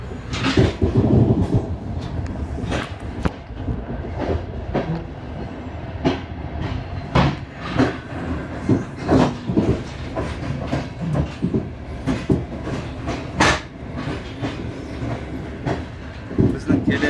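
An old passenger train's compartment carriage clattering along the rails on a trip from Almaty, with rhythmic clacks and knocks over a steady rolling rumble, close and fairly loud inside the car.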